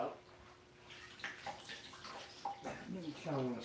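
Water bubbling and sloshing in a bucket as a thick 8 mm strip of vegetable-tanned leather soaks for wet stretching, close and moderately loud, with brief speech over it.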